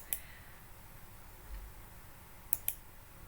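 Computer mouse clicks, one near the start and a quick pair later, sharp and faint against a quiet room hiss.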